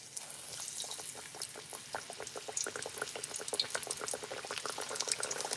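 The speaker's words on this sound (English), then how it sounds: "I'm gonna go ahead and start dropping my fish." Whiting fish dusted in flour frying in hot oil in a pot, a steady bed of fine sizzling crackle with dense popping bubbles that builds slightly, close and fairly quiet with no voices.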